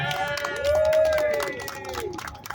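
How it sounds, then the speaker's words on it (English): Crowd at an outdoor eviction-protection rally in City Hall Park, New York, clapping and cheering, with whooping voices rising over scattered claps throughout. "Let's give them a round of applause."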